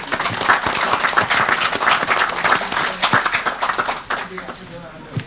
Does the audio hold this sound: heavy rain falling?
no